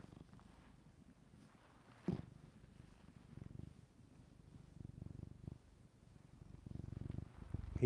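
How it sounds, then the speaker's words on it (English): A cat purrs with a soft, steady low rumble, very close to a microphone in a quiet room. The sound rises and falls with each breath, and there is a brief knock partway through. "I'm going to try to get his purr with the mic."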